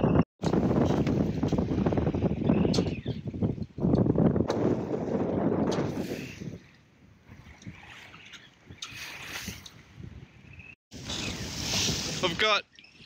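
Wind gusts roar across the microphone aboard a 23ft trailer sailer at sea with about 18 knots of breeze, a steady heavy rushing that partly drowns someone talking, then eases.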